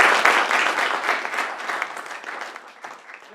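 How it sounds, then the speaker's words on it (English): Comedy club audience breaks into a round of applause, dense clapping that starts strong and gradually thins out over a few seconds. "How about a big round of applause for Sydney"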